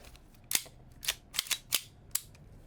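Gas blowback airsoft pistol, an Army Armament Staccato 2011, popping off five crisp shots at uneven intervals, close and moderately loud with faint mechanical clicks between them and no voices.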